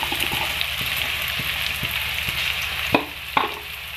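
Chopped onion and potato sizzle and crackle steadily in hot oil for egg chowmein, with a spatula scraping and tapping the pan at intervals, close and continuous.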